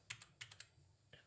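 Several crisp key presses on a computer keyboard come in small clusters, clicks close and quiet with pauses between them, in a quiet room.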